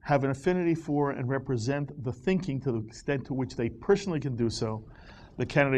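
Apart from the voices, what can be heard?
None of the usual background noises is heard.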